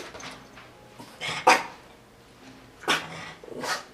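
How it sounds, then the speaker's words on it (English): A dog lets out a few short, sharp barks, spaced apart, fairly close. "What's with the barking?"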